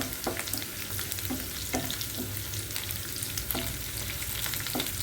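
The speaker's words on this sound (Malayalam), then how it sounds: "മുളകൊക്കെ ഒന്ന് ചെറുതായിട്ട് ആ എണ്ണയൊക്കെ ഇടന്ന് ഒന്ന് മൂക്കണം" Dried red chillies frying in hot oil for a mixed dal tadka give a steady, close sizzle and crackle, with a few sharper pops and stirring clinks throughout and no voices.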